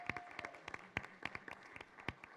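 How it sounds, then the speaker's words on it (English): Scattered, moderate applause and individual claps fill a school board meeting room, welcoming a new board member in a brief burst with no talking over it. "big round of applause for her"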